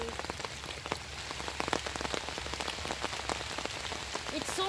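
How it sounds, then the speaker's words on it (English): Rain falls steadily on a surface nearby, a dense patter of drops that holds constant for several seconds, with a brief voice at the very end. "So, raining, really, raining."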